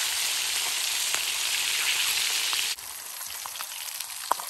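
A large fish frying in hot oil gives a loud, dense, even sizzle with scattered pops, then the hiss drops abruptly to a quieter crackle with occasional spits.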